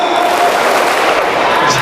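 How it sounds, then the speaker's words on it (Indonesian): Students join in a rhythmic group clapping routine, counting claps in sets of one, two and three, a dense, loud burst of many hands with crowd noise throughout. "Tepuk 1, tepuk 2, tepuk 3."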